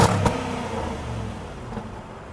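A 2012 Jaguar XJL engine idles with a throaty, low rumble and a slight rev, starting with a sharp clatter, then settling into a steady hum.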